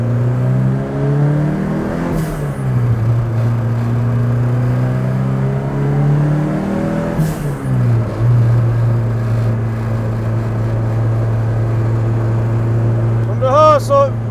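Loud, steady engine drone and road rumble fill a car's cabin on a gravel road, with the motor's pitch dipping and rising twice as the car shifts or slows; noise continues throughout with no clear talk over it.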